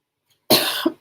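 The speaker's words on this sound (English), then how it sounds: "Coughed in my own room without covering my mouth." A person coughs once in their own room, a single loud, harsh burst close to the listener, followed by a brief catch and a second short cough after a pause, with no talk.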